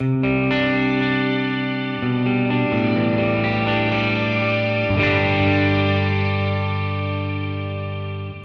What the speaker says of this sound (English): So this preset is called Shine, which I think is a more of an experimental kind of ambient type tone.